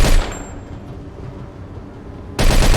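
Gunfire in the Mafia II video game: a loud close blast opens, fades into a lingering rumble, then a second heavy shot hits near the end, with no talking.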